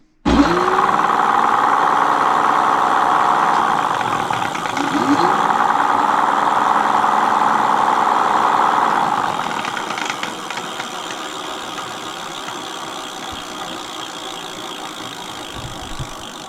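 Motor of a Mate X 20x4 fat-tyre electric bike after fresh grease has been added to it, a steady close whirring hum that holds level, then drops and runs on more quietly with faint mechanical clicking.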